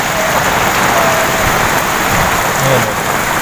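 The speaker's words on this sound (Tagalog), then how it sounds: "Malakas pa yung ulan, malakas pa yung hangin." Heavy rain pours steadily with a dense, constant hiss, gusting wind blended in, loud and close throughout.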